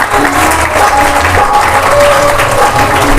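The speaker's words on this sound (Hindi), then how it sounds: "निर्मल साहिब जी के लिए जोरदार ताली बजाएं।" Loud audience applause fills a Kabir bhajan satsang gathering in honor of Nirmal Sahib, a thick, continuous roar of clapping with crowd noise and faint tonal sounds running beneath it.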